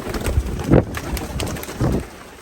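Racing pigeons inside a loft give soft cooing and fluttering sounds, with a few louder thumps and wing flaps at close range amid light handling noise.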